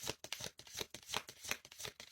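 Oracle cards being shuffled by hand in a quick, rhythmic series of soft papery riffles and flutters, close and quiet, with no talking over them.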